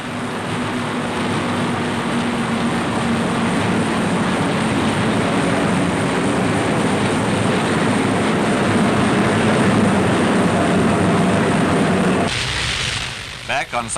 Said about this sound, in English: the forts cruise over the Japanese capital, making sure of their target, while ack-ack shells burst pretty close